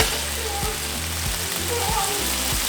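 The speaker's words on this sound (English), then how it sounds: "I'm gonna finish cooking my meat" Carne asada meat sizzles steadily as it fries in a pan, with a continuous crackling hiss and occasional low knocks of stirring or utensil contact, close and moderately loud throughout.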